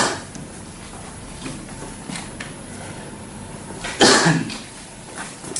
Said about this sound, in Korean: 이게 기침하는데 물 한 잔 떠주는 사람이 하나도 없어요.